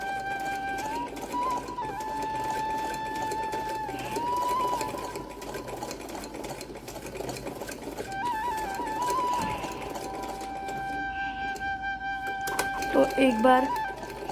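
A sewing machine stitches around the waist of a small doll dress for a Laddu Gopal figure, running in steady whirring bursts with brief pauses while someone talks over it.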